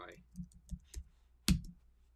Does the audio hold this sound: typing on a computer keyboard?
yes